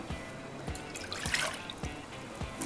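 Water, about two and a half cups, poured into a pan to make sugar syrup for halwa puri, giving a quiet, soft trickle with scattered drips and faint low knocks, with no voices.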